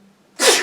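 A single loud, close human sneeze, a sharp explosive burst after a moment of quiet.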